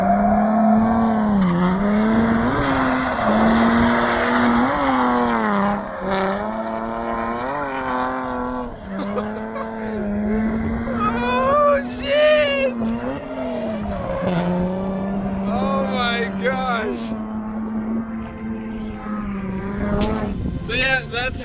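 A drift car at a drift event revs hard and loud across the track, its engine note rising and falling while the tires squeal in repeated skids, with a voice talking over it.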